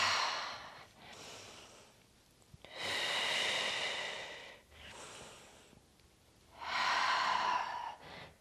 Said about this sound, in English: Inhale up, exhale back.